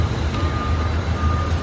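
A long trailer truck makes a tight, difficult turn at a plaza intersection in San Jose, Antique, Philippines, its engine rumbling low and steady throughout while a faint high tone beeps intermittently.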